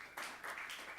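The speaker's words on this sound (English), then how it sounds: "Give him a round of applause." Applause from an audience for advisor Marco Pignataro after a student music project presentation, a brief, faint burst of clapping at a distance.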